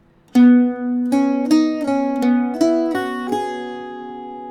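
Several bright plucked notes from an Irish bouzouki form a brief phrase, the first held a moment, the rest quicker, closing with a ringing final note.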